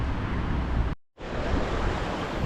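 Water rushes over a small dam at a little pond in a loud, steady broadband roar that cuts out completely for a moment before resuming.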